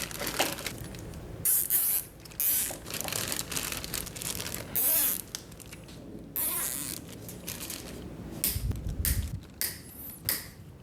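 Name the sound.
covering tubes with a Ziploc bag and zip tie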